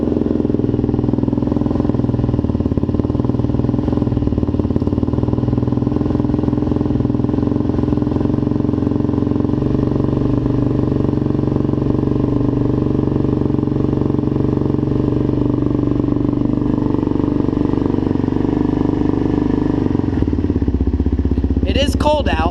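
A Suzuki LTZ400 quad engine idling steadily after a cold start on a cold day, a close, even, loud putter that continues throughout and changes briefly near the end.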